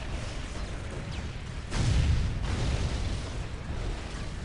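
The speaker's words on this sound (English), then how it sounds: "What are these explosions that I'm seeing?" A deep, rumbling explosion bursts from a battle in the strategy game Dawn of War: Ultimate Apocalypse, where Necrons face Imperial Guard. It swells midway over the ongoing din of combat and then fades back.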